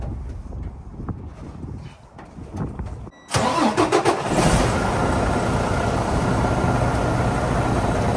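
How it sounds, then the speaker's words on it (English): A Freightliner M2 truck's engine cranks and fires after a few seconds of low background rumble, then settles into a steady, close, loud diesel idle. "I'm going to turn the truck on and listen to the air leaks again"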